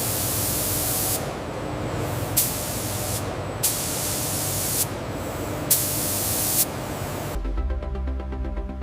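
Spray equipment coats a Padauk wood door with several layers of UV-inhibiting sealant in a booth, giving loud steady hissing in repeated bursts separated by brief breaks, then stopping abruptly.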